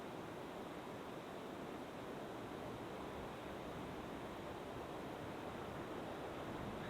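A constant, heavy roar of the Charles River pouring over a dam in Watertown, broad and unbroken, with no voices.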